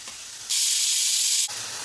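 Onions sauté with salt in a pan for a kidney bean (rajma) masala curry, giving a continuous steady hiss that swells into a louder, brighter one-second burst before settling back, near and with no voices.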